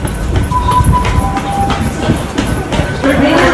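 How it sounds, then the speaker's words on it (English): A train rumbles close by with rattling, clattering wheels and a brief high squeal, a loud, continuous rolling noise filling the scene. "That's the train."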